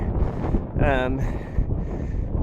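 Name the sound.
wind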